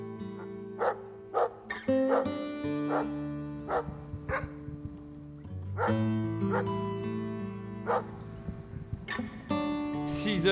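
Siberian husky sled dogs bark and yelp excitedly before departing at six in the morning in Quebec, a dense overlapping chorus of sharp barks, whines and howl-like tones, close and continuous.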